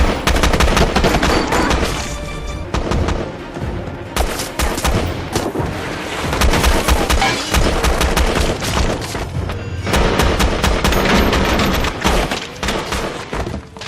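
Intense gunfire rattles through a film's room-assault battle, with rapid machine-gun bursts and scattered single shots trading back and forth, loud and continuous, punctuated by occasional booms.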